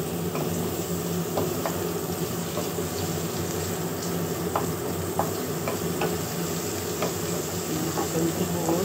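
Cooking oil heats and sizzles in a pan before frying, a steady close crackling hiss with scattered small pops and occasional utensil clinks throughout.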